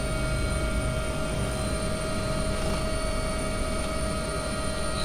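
A helicopter engine winding down after landing, a steady whining turbine drone with constant tonal hum and broadband rumble, close and continuous.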